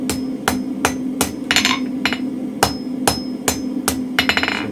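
Gentle hammer taps closing up a mild steel spring fuller at the forge, struck in a steady rhythm of sharp metallic hits about every half second, some ringing briefly, close and clear with no talk.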